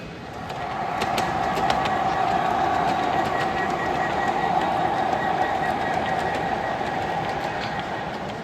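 Model train runs at the Amherst Railroad Society train show, a steady continuous rumble and hum with faint rhythmic clicking that holds level throughout.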